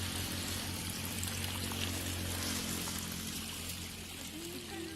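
Water flowing from recycled, damaged irrigation pipes on a farm: a continuous loud rushing, splashing stream with no break, close by.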